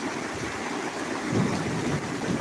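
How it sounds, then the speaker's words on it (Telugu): Heavy rain in Kakinada pours steadily close by while a low rumble of thunder swells under it partway through, the downpour's hiss continuing throughout. "పక్కన ఉరుములు"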